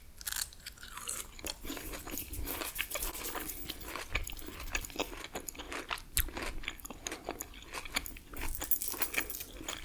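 Close, intimate chewing of gummy candy, with wet squishy bites and soft crunching in an irregular rhythm for about ten seconds, no talking.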